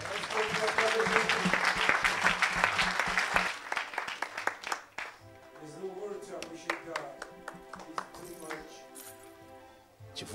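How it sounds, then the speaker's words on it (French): Congregation at a lively church service applauding and cheering loudly for the Lord, dense clapping that thins into scattered claps alongside shouting voices and some talk. "Quelqu'un peut acclamer le Seigneur?"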